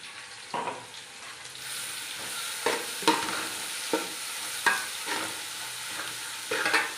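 Cashew paste being stirred into a sizzling chilli gobi fried rice mixture in a frying pan, with a soft continuous fry under repeated scraping strokes of a spoon against the pan, close and evenly spaced.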